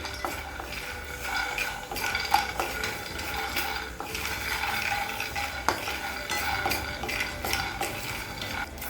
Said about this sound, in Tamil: வேர்க்கடலையை நல்லா வறுத்துக்கலாங்க